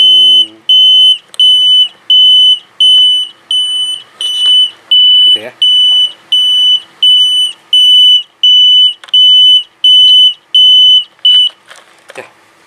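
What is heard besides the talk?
buzzer of a homemade railway crossing alarm flasher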